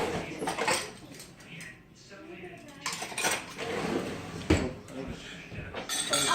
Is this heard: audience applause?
no